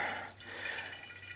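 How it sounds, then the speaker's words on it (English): Wine running through a hose into sterilized wine bottles, a steady close trickle and splash of liquid filling glass, fairly quiet and continuous with no talk. "I'm siphoning into these sterilized wine bottles"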